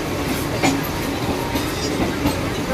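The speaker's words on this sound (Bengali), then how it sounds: "শিয়ালদা সাউথ সেকশন থেকে ক্যানিং লোকালে উঠবো, ট্রেনও আমাদের দিয়ে দিয়েছে এই প্ল্যাটফর্মে।" Canning local train standing at a Sealdah station platform, heard as a steady rumbling station din with a few brief metallic clanks, continuous throughout, no clear speech.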